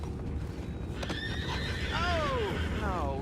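In the video game Red Dead Redemption 2, a horse whinnies with a falling neigh, followed by a second shorter one, over a steady background of hoof clops and ambient noise.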